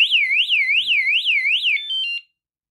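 An Onvian bicycle tail and brake light security alarm wails in a fast, warbling siren for nearly two seconds, then shifts to a brief steady beeping tone before cutting off into silence.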